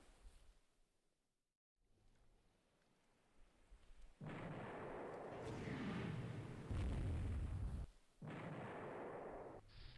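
A torpedo strikes a ship in the naval strategy game Rule the Waves 3, bringing a loud, sustained rumbling blast with deep booming bursts that swell after a quiet lull, then a short gap and renewed roaring.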